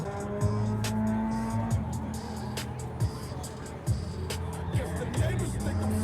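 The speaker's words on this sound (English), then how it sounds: "now it has a rev limiter that I can hit" A turbocharged Nissan SR20 engine on stock boost repeatedly bangs off its rev limiter, with a stuttering, bouncing rhythm of cuts, loud and near, over a steady idle-like drone.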